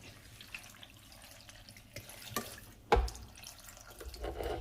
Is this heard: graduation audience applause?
no